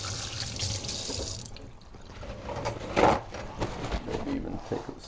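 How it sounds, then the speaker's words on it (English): Hot water runs from a kitchen tap in a steady close splash, with hands moving under the stream and a brief louder gush midway, and a faint voice now and then in the background. "Hot water."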